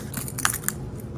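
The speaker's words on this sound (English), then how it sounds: "I'm trying to open this box. Even though it's not ideal to use car keys as a box opener." Car keys scraping and tearing at a cardboard box holding a Canon Pixma TS202 printer, producing close, crackly crunching and ripping bursts with a couple of sharp clicks.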